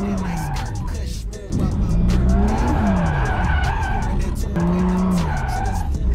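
A drifting car's tires skid and squeal in long sweeping wails over a loud, steady engine roar, with a brief drop in level before the screech resumes and carries on continuously.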